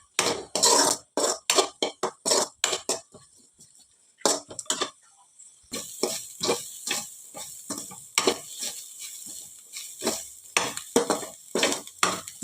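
Beetroot palya frying in a pan, with a spoon stirring and scraping in quick repeated strokes over a steady sizzle, a brief pause in the middle, then more brisk stirring close by.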